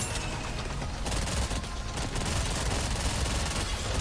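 Video game turrets pour out rapid continuous automatic fire, a dense loud clatter of overlapping shots with no pauses throughout.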